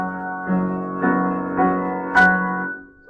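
Sustained piano chord from a Chopin piece with an extra note added a 4/3 ratio above, struck several times in a row with steady ringing harmonics and a brief sharp accent near the end.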